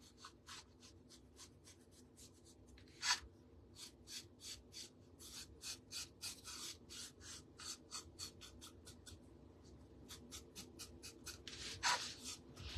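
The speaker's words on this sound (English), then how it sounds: "I'm going to go ahead and take my finger and just go around the edges here to get that white paper look off" A finger rubs around the edges of rice paper glued onto a birdhouse, making quick, close, dry scratchy strokes in irregular bursts against a quiet background.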